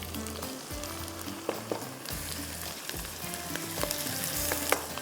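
Ginger and garlic drop into hot oil with cumin, mustard seeds and curry leaves, sizzling steadily and loudly up close while a spoon stirs through the pan.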